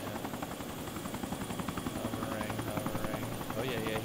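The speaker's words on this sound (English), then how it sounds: "Chopper goes past you guys right now?" Steady rotor thump and whine of a helicopter flying past in the video game DayZ, loud and continuous throughout, with voices talking over it.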